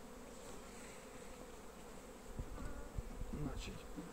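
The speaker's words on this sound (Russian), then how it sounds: "Такие пчелы интересные" A steady swarm of bees at a hive hums continuously, close and moderately loud, with a few soft knocks and rustles near the end.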